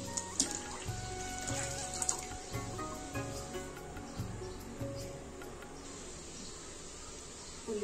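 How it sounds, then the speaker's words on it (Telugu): Water is poured into a cooking pot while a gram-flour curry is being made. It makes a faint, steady trickle and splash against a quiet background with insect-like chirping. "మనకు నీళ్ళు ఎంత కావాలో ఎంత పోసుకోవాలి"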